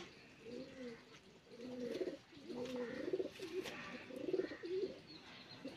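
A Punjabi Malwai pigeon coos nearby in a repeated series of soft, low, throaty rolling calls, with faint chirps and background noise around them.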